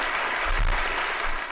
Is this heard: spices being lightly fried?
no